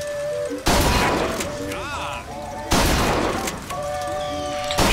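Heavy shotgun blasts in BioShock Infinite: three booming shots spaced a couple of seconds apart, each followed by ringing game tones, shooting at targets in the sky, with a voice talking between them.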